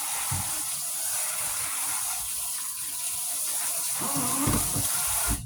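Cool tap water runs steadily over raw chicken being rinsed for no-salt chicken soup, a continuous close hiss and splash with brief louder surges of flow near the end.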